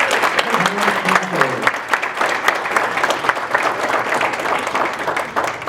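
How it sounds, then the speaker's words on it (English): Steady applause from a crowd at a school district award ceremony, dense clapping that carries on without a break, with a brief voice near the start. "Let's give her another round of applause."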